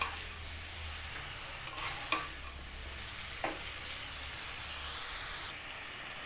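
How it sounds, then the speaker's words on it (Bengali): Bottle gourd greens with salt and turmeric are stirred in a hot pan: a steady hiss of frying is broken by a few sharp scrapes and clinks of the spatula, close by, with no talking. "নুন আর হলুদ দিয়ে ভালোভাবে আরও কিছু সময় শাকটা আমি নাড়িয়ে চাড়িয়ে নেব"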